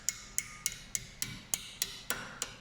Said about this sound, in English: I'm using a little bit of a heavy hammer here,